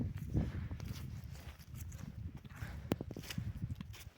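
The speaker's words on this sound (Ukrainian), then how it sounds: "Кобила по кличці Майя" Steady hoof clip-clops of a mare walking at an even pace, soft and somewhat distant over a low background rumble.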